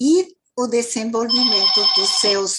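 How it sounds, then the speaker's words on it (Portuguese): A telephone rings with a thin, high, sustained electronic trill under someone speaking Portuguese up close, the voice louder than the ring. "desculpa o telefone"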